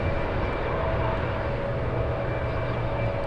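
United Airlines Boeing 757 with Rolls-Royce RB211 engines idling at San Francisco International Airport, a steady, loud jet whine and low rumble holding evenly throughout with no pauses.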